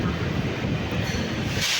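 A metro train at Ameerpet metro station in Hyderabad rumbles loudly and steadily nearby, a dense low roar with a rising hiss near the end.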